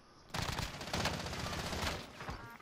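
Rapid automatic gunfire in Call of Duty Warzone on Rebirth Island, a dense sustained burst starting abruptly and rattling loudly for about two seconds before easing off.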